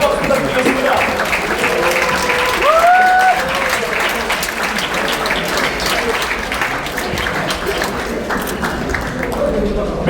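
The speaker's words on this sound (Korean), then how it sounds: "꽃다발을 증정하는 이 순간 여러분의 격한 환호와 아울러 뻗어라 박수 부탁드리겠습니다" A crowd at a memoir book launch ceremony in a National Assembly museum hall breaks into loud, sustained applause and cheering during a flower presentation, with a voice speaking over the clapping.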